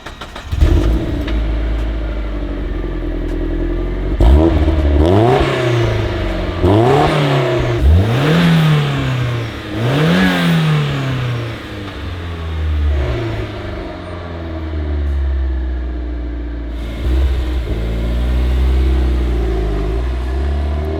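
A Mazdaspeed Miata turbo engine cranks, fires and settles to idle, then revs repeatedly in sharp rising and falling sweeps before dropping back to a steady idle, loud and close with no voices.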